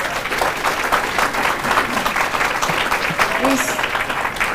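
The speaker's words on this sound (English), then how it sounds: "Give them another round of applause, please." Applause for a university gospel chorale at a business breakfast, a loud, full round of clapping from the room with some voices mixed in beneath it.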